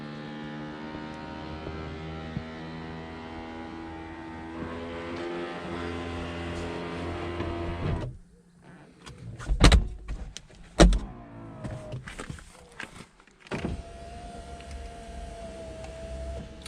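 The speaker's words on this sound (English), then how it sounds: "I'll just show you the hood working. So there it is going up." The electric hood motor of a Porsche 987 Boxster S convertible whines steadily as the roof raises, followed by a hush, a couple of sharp clunks as it latches, and a short closing hum.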